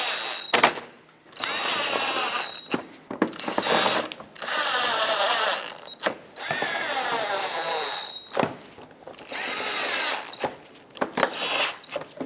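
Power driver running screws into the grille of a 2014-2021 Mazda 6, with several short whirring bursts separated by brief pauses and clicks, close up.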